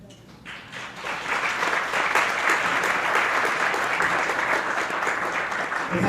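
A live audience at a stage presentation breaks into applause, rising from scattered claps into a full, sustained round of clapping that stays loud to the end.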